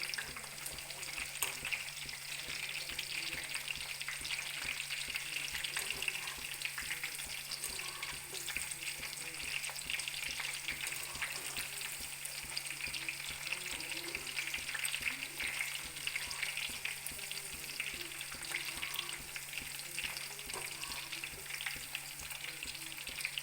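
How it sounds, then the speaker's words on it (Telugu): Garlic sizzles and fries steadily in a hot pan until light golden, a continuous crackling hiss at low level with occasional stirring scrapes and no talk. "వెల్లుల్లి లైట్ గోల్డెన్ కలర్ వచ్చేంత వరకు వేయించుకోవాలి"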